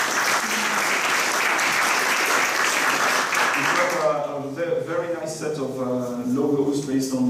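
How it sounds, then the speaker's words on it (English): A round of applause from a conference audience, loud dense clapping for about four seconds that gives way to someone speaking. "A round of applause for him as well."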